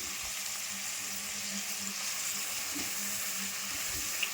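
Green chillies frying in a pan of onions and oil for a chicken gravy, giving a steady, even sizzle with faint stirring clatter and no voices.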